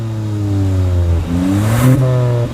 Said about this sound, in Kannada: ಎಕ್ಸಾಸ್ಟ್ ನೋಟ್ ಕೂಡ ಕೇಳಿಸ್ತೀನಿ ಗೈಸ್ ನಿಮ್ಗೆ